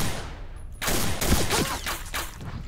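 An MK rifle fires in a video game, with a run of sharp, loud reports in quick succession over constant game ambience.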